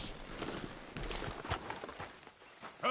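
Horse hooves clip-clopping in a PS4 video game, a short, fairly faint run of uneven hoof beats that ends in a sharp sound.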